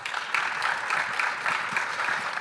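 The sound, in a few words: audience applause for speaker Sam Edwards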